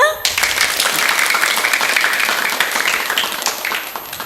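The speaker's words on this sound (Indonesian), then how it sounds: "Mana tepuk tangannya?" Dense, sustained applause from an audience at a live children's storytelling broadcast with a primary school on RRI Pro 1 Gunung Sitoli radio, loud and continuous for several seconds after a brief voice at the start.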